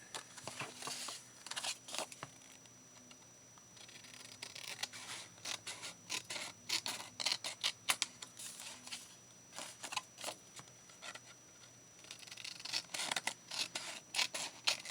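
Scissors snip through paper in repeated short cuts while seed envelopes are being made, with crisp rustling and crinkling between the closer, quiet snips and no talking.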